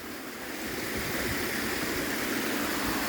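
Steady, dense rush of the Zhenetskyi Huk waterfall near Vorokhta, a continuous broadband roar with no pauses, fairly loud and close, with no voices present.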